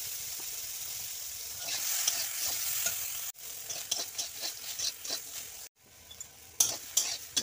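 Boiled greens, seasoned with salt and turmeric, sizzle and crackle loudly as they are tipped into hot oil and stirred in a pan, with steady frying hiss and repeated stirring scrapes.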